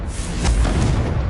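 A Confringo blasting spell goes off in the Hogwarts Legacy video game, a dense, loud booming burst with rumbling low end that swells around the middle and holds steady for just over a second, no talking over it.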